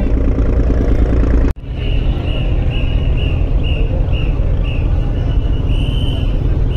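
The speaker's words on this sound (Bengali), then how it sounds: "সর্বশেষ পূবালী 12 লঞ্চ কিন্তু এগিয়ে গেল।" Bengali passenger river launch Purbali 12 pulling away before dawn, a steady low engine drone and broad wash running throughout, broken by one sharp bang early on, with faint high whistles repeating above.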